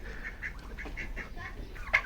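Turkeys calling at a pet house, a few short bird calls repeating close by against low background noise, ending in one sharper, louder call.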